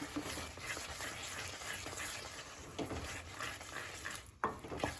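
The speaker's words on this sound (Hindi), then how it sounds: "1 बड़ा चम्मच हम ऐड कर देंगे पाव भाजी मसाला, और इसे अच्छे से मिला लेंगे" Pav bhaji masala being stirred into bhaji in a pan, a steady scraping and mixing with soft sizzling beneath and a sharper clank near the end.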